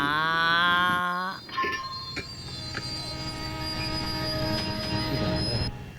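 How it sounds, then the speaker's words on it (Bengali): Train wheels squeal loudly in a steady, high, ringing tone as the train slows to a halt at a signal. The squeal is strongest at the start and keeps going under a continuous rumble, with no talking. "গাড়ি থেমে গেছে সিগনালে আটকেছে এক ঘন্টা ট্রেন দাঁড়াবে এখানে"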